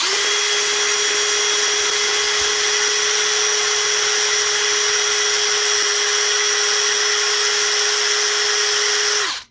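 A cordless power drill whines steadily at a constant high pitch for the whole stretch, loud and close, then cuts off abruptly at the end.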